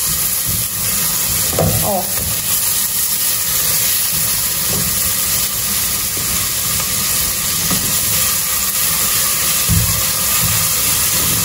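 Onion sautés in a pan for caldo verde, giving an even sizzling hiss with occasional stirring knocks, and a brief voice is heard once.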